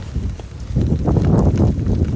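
Steady wind buffeting a microphone while bike touring on the C&O trail toward Cumberland, a low constant rumble that thickens and grows louder partway through, with no voices.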